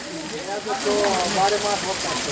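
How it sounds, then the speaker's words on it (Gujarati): Heavy rain falling in Wankaner, a dense steady patter close by, with a person talking over it. "આ વરસાદ છે"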